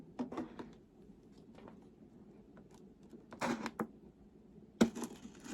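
Scissors snip in short, faint clicks and crunches, with small bursts near the start and middle and a sharper cut toward the end in a quiet room.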